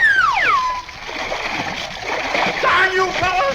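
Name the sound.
splash of a man thrown into a swimming pool, radio effect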